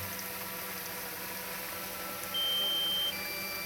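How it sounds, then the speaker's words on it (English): A thin, steady electronic tone sounds briefly, then shifts to a lower pitch and continues faintly over a quiet background hum. "I'm sorry about the beeping, folks."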